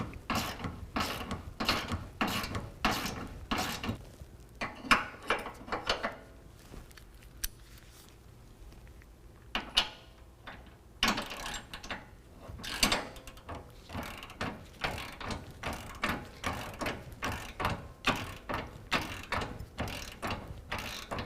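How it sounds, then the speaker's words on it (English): A ratchet wrench with a 21 mm socket loosens the exhaust hanger bracket bolt on a 2017 Ford F-150 while a 24 mm wrench holds the nut. Its close, loud clicking comes in quick repeated bursts with short pauses between strokes. "In order to do that, we'll need a 21 millimeter here to break it loose, and also a 24 millimeter to hold the nut loose on the other side."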